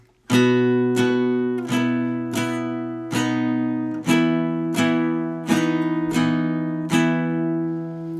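A guitar alternates between two ringing chords, about nine strums evenly spaced, each left to sustain and fade before the next.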